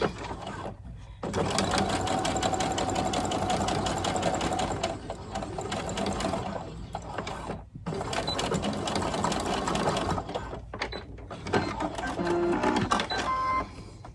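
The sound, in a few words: sewing machine doing a stretch stitch on doll underwear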